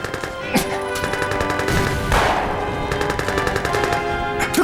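Sustained battle gunfire in a war film set at the Battle of Pingxingguan, rapid machine-gun bursts and rifle shots crackling continuously and loudly throughout, with a large blast-like surge in the middle.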